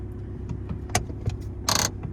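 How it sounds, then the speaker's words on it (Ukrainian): A car handbrake pulled up while parked on an uphill slope during a driving lesson, a short ratcheting click and clunk heard over a steady idling engine hum. "Піднімаємо, піднімаємо ручник."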